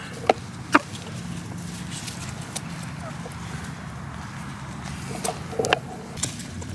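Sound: chickens clucking while eating

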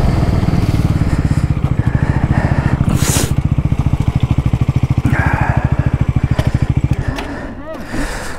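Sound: motorcycle racing at full throttle, NS400z vs RC390 drag race

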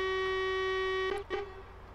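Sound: truck horn in a video game

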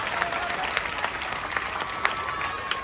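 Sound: audience applause

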